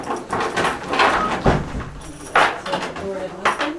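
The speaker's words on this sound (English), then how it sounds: "door to open" A door opens inside the Freestone County Museum during a nighttime ghost hunt, with a couple of sharp knocks and clunks amid steady room noise while people talk throughout.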